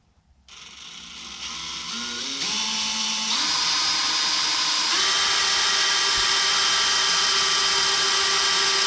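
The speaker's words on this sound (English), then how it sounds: "If the drill will kind of fit." A power drill spins up and runs steadily, its whine stepping higher in pitch as it speeds up, loud and close with no talking.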